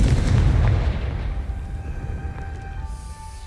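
A Confringo blasting spell explodes in the Hogwarts Legacy video game: a loud, booming burst with a rumbling low-end tail that fades over a few seconds, standing alone without voices.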